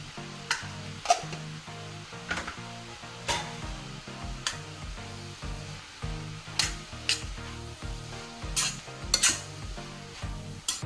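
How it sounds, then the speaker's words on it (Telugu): Shredded cabbage with chilli powder frying in a pan, a steady close sizzle under repeated scraping stirs of a spatula, with sharp clicks and clatters against the metal throughout; no talking. "చూసారు కదా, మనకు మంచిగా ఫ్రై అవుతుందండి"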